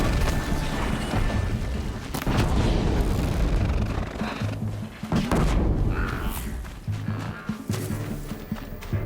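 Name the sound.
explosion in Horizon Zero Dawn video game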